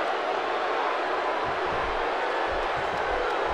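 An arena wrestling crowd in WWE 2K16 roars in a steady, broad wash of cheering and noise throughout, with faint thumps beneath it and a voice barely present.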